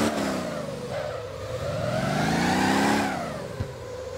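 A car in the driving game Motor Town revs hard and spins its tires, the engine note swooping up and down in pitch with a continuous squealing tone at moderate volume.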